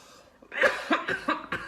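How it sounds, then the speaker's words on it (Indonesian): A short series of close coughs, four or five harsh bursts in quick succession with brief breaths between them. "Maafkan, batuk saya masih ada."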